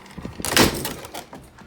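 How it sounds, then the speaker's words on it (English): A door opens at a fire alarm control panel cabinet for a Simplex 4100ES system, giving a short, fairly loud latch-and-swing burst with no talking. "I gotta open the door first."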